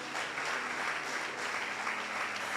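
A church congregation applauds during a sermon, a steady dense wash of clapping from a large crowd that holds at an even level throughout, with faint voices underneath.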